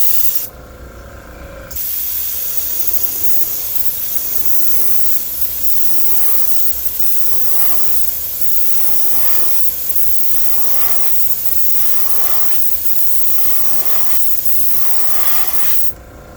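Paint hissing from an airbrush onto a Storm V45 fishing lure in a brown craw finish, fluorescent orange tinted with transparent red, in short repeated bursts after a brief opening spray, steady and close with no talking.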